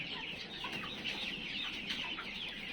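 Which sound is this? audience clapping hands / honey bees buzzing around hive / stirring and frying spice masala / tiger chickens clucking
tiger chickens clucking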